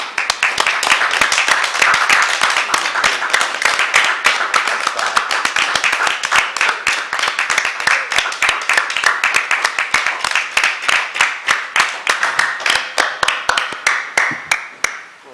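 Senators applauding together in the Senate chamber in recognition of frontline workers, sustained dense clapping from many hands that grows sparser and fades toward the end.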